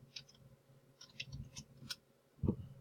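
Keys on a keyboard are pressed in a short irregular burst of crisp clicks and taps, close and fairly faint, ending with a heavier thud.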